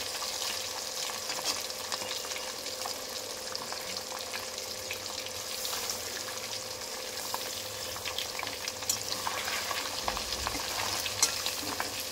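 Pomfret fish frying in oil make a constant close sizzle with light spatters and stirring noises, while a mixer grinder hums steadily in the background.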